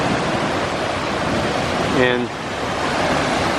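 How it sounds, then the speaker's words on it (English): Ocean waves wash and break on the North Manitou Island shore in a loud, continuous broadband rush, with a brief spoken word near the middle. "You could practically surf those waves."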